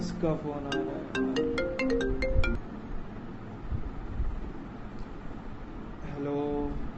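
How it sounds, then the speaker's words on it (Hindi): Phone ringtone playing a bright chiming melody for a couple of seconds, then starting again near the end, with room noise between. "किसका फोन आ रहा है?"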